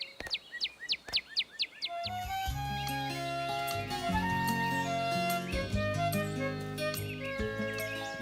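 Cartoon birds answer an old man's call with a quick run of about eight bright, rhythmic chirps in the first two seconds, then fade under a swelling animated-show music score.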